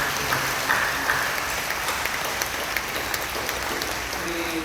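A church congregation at a Friday night prayer service applauds to encourage its university youth, with steady, dense clapping from many hands that stays even throughout and has no talk over it.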